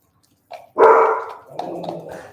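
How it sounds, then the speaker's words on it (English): Dogs barking indoors in a home kitchen, a short pair of close, loud barks with a lower growly tail. "Dogs are barking."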